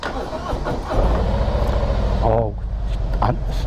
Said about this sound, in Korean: 이거를 엔진 시동 쪽으로 돌리고 그 다음에 스타트